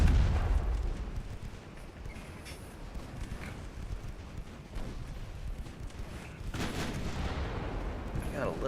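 Big naval guns boom in a dreadnought-era warship battle game, with several heavy broadband blasts: one at the start, another mid-way and a cluster near the end, over a rumbling battle bed while someone talks.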